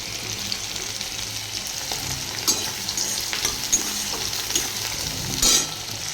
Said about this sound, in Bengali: পেঁয়াজটা দিয়ে দিলাম, একটু পেঁয়াজটা লাল লাল করে ভেজে নেব।